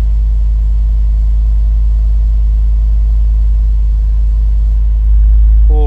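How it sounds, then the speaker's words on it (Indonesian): A Mercedes-AMG G 63 engine idles with a steady, deep low rumble for several seconds. Near the end it swells louder as it briefly catches or revs, with no voices over it. "Starter dulu. Ini paling menyenangkan starter AMG."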